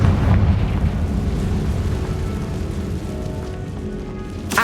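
A Confringo spell explosion in the video game Hogwarts Legacy, a deep booming blast that rumbles and fades over a few seconds, with a short sharp burst at the end.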